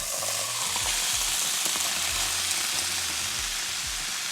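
Sauce goes into a hot pan with vegan meat, sizzling loudly and continuously up close, with low scraping and clatter underneath and no voices.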